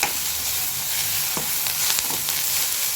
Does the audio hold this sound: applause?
no